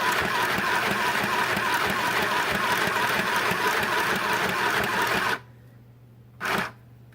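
A home sewing machine runs in a steady, dense mechanical whir for about five seconds, then stops abruptly, followed by a brief second burst of stitching.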